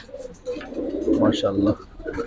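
A racer pigeon at a pigeon farm coos in a short low burst while people talk close by.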